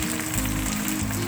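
Tuna steaks sautéing on an outdoor grill over a medium-low fire, giving a steady, close, dense sizzle and crackle that continues unbroken.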